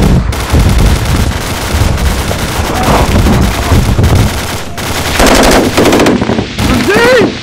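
Loud, close machine-gun covering fire on Taliban positions in Helmand, sustained bursts of rapid shots with brief gaps, plus a few shouted voices.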